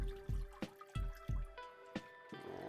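Sushi rice being rinsed and swished by hand in a bowl of water, with several distinct wet splashes and drips in an irregular rhythm, close and fairly quiet, no talking.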